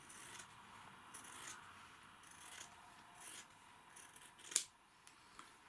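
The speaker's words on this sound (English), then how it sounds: "get the scissors and we cut across here" Scissors snip across the fabric of a trouser pocket during a repair, a quiet rasping cut with one sharp louder snip near the end, close and alone without talk.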